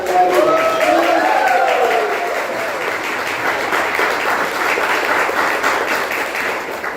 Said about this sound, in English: can we have a huge round of applause for DTM Vanitha?